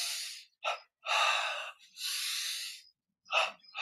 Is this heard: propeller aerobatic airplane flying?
no